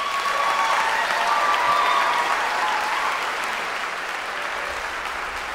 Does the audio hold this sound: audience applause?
yes